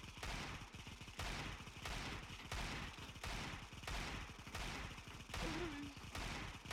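Gunfire in Counter-Strike: Global Offensive, a steady stream of loud rapid shots with short pauses between bursts, close and dense throughout, with a brief voice near the end.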